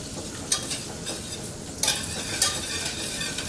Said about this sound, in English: So make sure you incorporate this well. Get your butter melted.